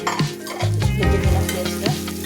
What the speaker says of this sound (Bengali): ভেজে নিলাম পেঁয়াজটা।